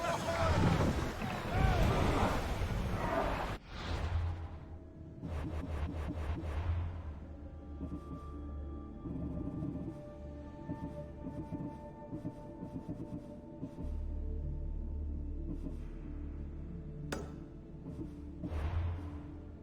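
A sailing ship moves through wind and water in Assassin's Creed Odyssey, steady creaking hull and rushing water under a broad wind wash, with a loud burst of splashing at the start and fainter voices in the background.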